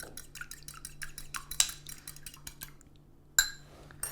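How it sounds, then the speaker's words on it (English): A fork lightly beats an egg in a bowl, making rapid rhythmic clinks and soft liquid taps, close and fairly quiet, with two sharper knocks and no voices. "just before I put that in, I'm going to lightly beat it with a fork."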